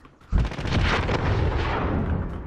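A grenade exploding in a shooter video game, a single sudden loud blast after a quiet moment, followed by a sustained rumbling roar that lingers for about two seconds.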